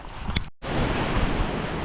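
Strong wind buffets and roars against the microphone, broadband and gusty after a brief cut, loud and close.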